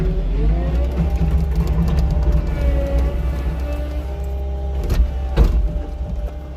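Diesel engine of a CAT 262D skid steer rising in revs, a steady loud low rumble with harmonic whine that climbs and holds, with a couple of sharp knocks near the end.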